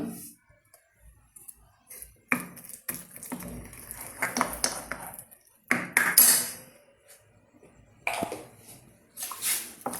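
A spoon stirs banana fritter batter made with Palayamkodan bananas, sugar and turmeric in a bowl, giving irregular bursts of clinking and scraping separated by short pauses.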